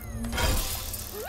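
Objects smashing in the video game Naughty Bear, a single loud shattering crash with a bright scatter of debris that fades quickly, no talking.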